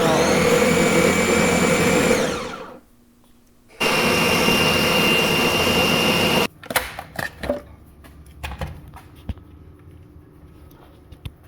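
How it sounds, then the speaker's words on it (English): A blender runs loud and steady as it purees fresh basil leaves with oil, stops briefly, starts again, then cuts off, leaving clinks and handling sounds of the bowl and jar. "you're just going to keep blending it"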